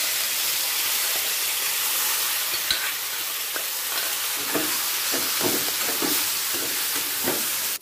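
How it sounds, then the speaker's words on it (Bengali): Matar dal lentils frying with ginger paste in white oil in a pan, a steady close sizzle with intermittent stirring scrapes, continuous throughout with no talk. "আদা বাটাটা দিয়ে ডালটাকে ভেজে দেব।"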